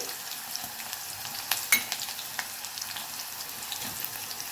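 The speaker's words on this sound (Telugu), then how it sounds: "ఇవి ఇలా వేగుతున్నప్పుడు దీంట్లో కట్ చేసుకున్న ఆనియన్స్ చిల్లీస్ వేసుకోవాలి" Chopped onions, chilies, curry leaves and ginger-garlic paste fry in a pan with a quiet, even sizzle and a few light stirring taps, close and alone without voices.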